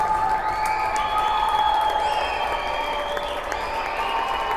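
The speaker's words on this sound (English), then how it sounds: "Fans on both sides applauding the unbelievable efforts of both of these teams." Fans in a rink applaud and cheer after a youth PeeWee hockey championship game, a steady crowd roar of clapping with sustained tonal sounds ringing above it.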